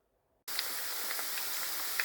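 Potatoes drop into a hot pan of oil for a mixed fried dinner. After a brief quiet moment, a sudden loud sizzle starts and holds steady as a bright, even hiss with small crackles.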